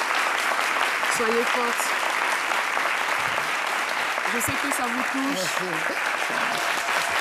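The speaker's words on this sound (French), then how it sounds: "Vous voyez tous ces applaudissements, vous les entendez." Sustained audience applause, a steady dense patter of many hands clapping throughout, with someone speaking over it at moments.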